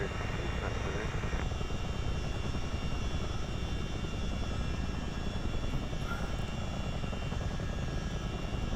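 A CH-47 Chinook tandem-rotor helicopter in low-level flight, heard as a constant dense rotor and engine roar with a rapid blade chop, loud and steady throughout with no talking.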